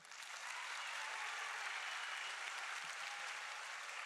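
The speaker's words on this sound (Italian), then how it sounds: "loro applaudiranno ancora più forte" Audience applauding after a bow at a live show in Ollolai, a dense steady clapping at moderate distance that holds evenly for about four seconds with no talk on top.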